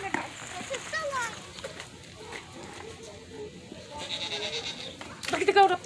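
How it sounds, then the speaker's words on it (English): A goat standing on a roof at a zoo gives a few bleats, one early and a louder, wavering one near the end, while people talk nearby. "Look at the goat up there. Goat on a roof."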